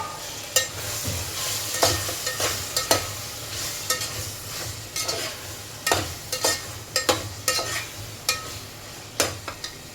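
Chopped tomatoes and green chillies fry in a pan with steady sizzling, while a spoon scrapes and clicks against the metal in an irregular rhythm of stirring strokes, close up and without talk.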